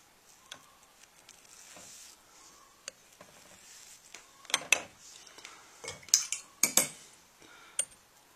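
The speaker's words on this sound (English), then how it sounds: "then you take your coffee spoon and you break that crust" A coffee spoon breaks the crust of soaked grounds at a cupping, giving a scatter of light clinks and scrapes that cluster into a few sharper taps against the cup near the end, close and fairly quiet.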